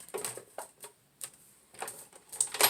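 A die-cutting machine cuts a butterfly piece for a greeting card, giving a few short, close clicking and crunching bursts separated by brief pauses.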